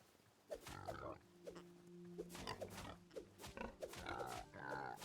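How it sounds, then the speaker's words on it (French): Pigs in the video game Hytale grunt and squeal in a rapid series of calls, with layered game sounds alongside. "Pourquoi il y a des porcs là?"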